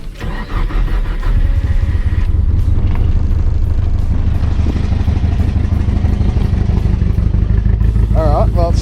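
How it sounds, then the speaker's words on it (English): A Nissan S14 drift car's engine runs roughly with a cylinder 3 fault, a loud rattling mechanical drone under a clattery idle that carries on steadily to the end. "Alright, well it still sounds like a fucking Subaru."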